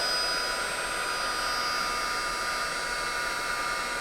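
An embossing heat tool blows steadily on embossing powder, a continuous, even hiss of hot air with a faint whine, close and unbroken, with no talk.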